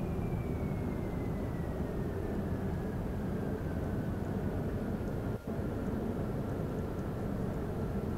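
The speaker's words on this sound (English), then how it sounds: "I think these double jets might be a little bit too strong for such an aircraft" A jet-powered Wright Brothers-style biplane in Kerbal Space Program roars steadily with a dense engine drone, a faint falling whine sliding down through the run and one brief dropout near the end.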